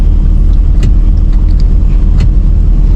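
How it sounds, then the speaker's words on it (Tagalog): Steady road traffic rumbles close by on a street near a bridge under construction with a crane, cars passing in a continuous low drone with a few faint clinks over it. "Traffic."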